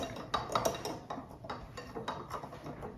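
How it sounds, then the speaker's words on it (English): Cake batter for a traditional Chaldean wedding cake, flavoured with orange zest, is mixed in a bowl, with rhythmic clinks and scrapes of a utensil against the bowl, close and moderately loud, repeating steadily. "Okay, we're gonna mix so that nothing flies away."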